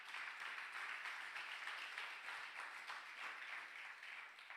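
A Spanish-language church congregation at a Sunday service claps together, a soft, even roll of applause heard from a distance for several seconds with no voice on top.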